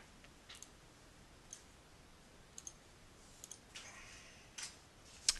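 Computer mouse clicks as a save button is pressed, several faint, sharp isolated clicks scattered across a quiet room with long pauses between them.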